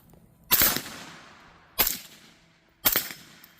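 Three sharp AR-15 rifle shots at an outdoor shooting drill, loud and close, each with a ringing decay. They are spaced about a second or more apart and no one talks.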